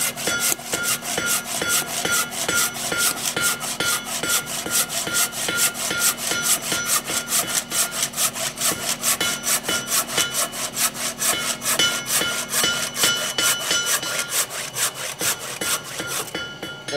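A Japanese pull saw cuts through an old butcher's block, giving steady, rapid rasping strokes that repeat evenly and close up for the whole stretch, with no talk.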